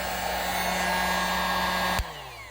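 A heat gun blows a steady, loud stream of hot air for shrinking tubing, with a constant motor hum and airy roar that cuts off abruptly near the end, leaving a fading whine as it spins down.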